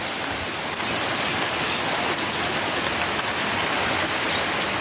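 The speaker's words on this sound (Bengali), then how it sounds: "তো দেখো বৃষ্টি কমেনি" Heavy rain pours down steadily and loudly, a dense unbroken hiss of drops hitting surfaces around a house, with water pooling on the roof and in the plants, and no pauses or voices.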